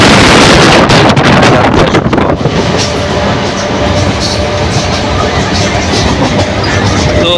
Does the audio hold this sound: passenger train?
yes